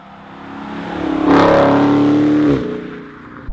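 A Dodge Charger R/T Scat Pack with its HEMI V8 and standard exhaust revs up close: the roar swells, holds steady at high revs for about a second, then drops back toward a rumbling idle.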